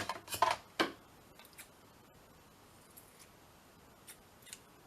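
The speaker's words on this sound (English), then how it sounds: "let's use a little bit of the cheesecloth. Get my scissors." A few quick scissor snips through cheesecloth near the start, then faint scattered ticks in a quiet room.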